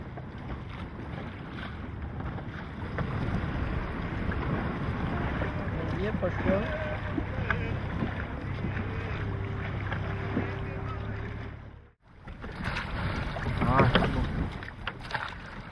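Strong wind buffets the microphone while waves wash around a replica of Gyptis, a 6th-century BC Greco-Massalian boat, in a harbor by a jetty. The roar runs steadily, briefly drops out near the end, then gusts back louder.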